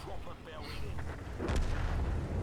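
A Leopard PT A tank cannon in a video game booms out mid-clip over a rumbling low background, with a brief whoosh before it.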